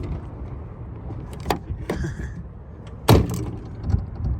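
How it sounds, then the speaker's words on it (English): A truck door with its broken panel ripped off swings open on a trailer rig. A few clunks and rattles come close by, with a sharper bang near the end, over a low idle and rumble. "Open my door at least."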